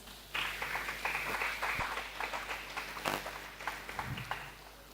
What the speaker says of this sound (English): A round of applause to all of our panelists.